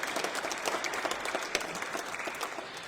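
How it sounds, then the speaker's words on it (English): Brief audience applause at the close of a heritage history talk in Hull Minster, a church setting, with a steady patter of many hands clapping. "one more round of applause for Martin"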